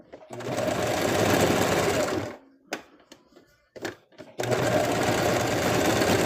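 A sewing machine runs in two long loud bursts as it stitches a seam across a Cthulhu plush body, with a short gap of handling clicks and soft noises in between.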